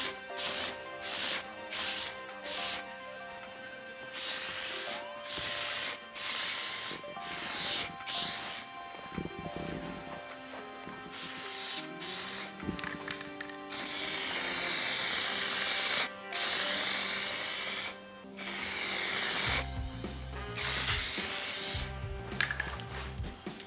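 Primer sprayed from a can onto a FG Falcon Barra rocker cover: a string of short hissing bursts, then longer sustained sprays, close and loud over a faint tonal background.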